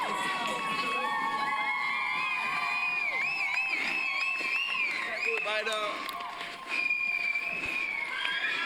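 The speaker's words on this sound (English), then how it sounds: "And back into the cheering squad." Roadside spectators at a road race cheer and shout loudly and continuously, with excited whoops and children's high voices rising over the crowd noise as runners pass close by.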